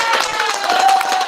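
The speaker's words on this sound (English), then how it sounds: "You got an applause too." A short burst of clapping from a small group at an online business workshop, quick and dense for just over a second, loud and close with no talk over it.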